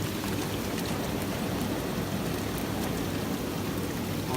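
Water fountains splashing in a Hawaiian Breeze spa hot tub, a steady, close, unbroken wash of falling water with no voices.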